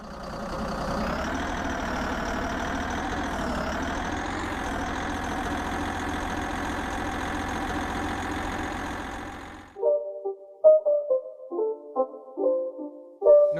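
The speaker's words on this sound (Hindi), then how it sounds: "इस ट्रैक्टर गेम का नाम है इंडियन ट्रैक्टर प्रो सिमुलेटर।" A tractor engine in the mobile driving game Indian Tractor Pro Simulator drones at a steady idle for about ten seconds, with small pitch swells, then cuts out and gives way to short beeping interface tones.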